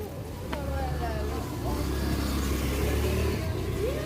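A motorcycle passes nearby on a busy street, its engine a steady mid-pitched drone that rises slightly, with people talking under the traffic noise.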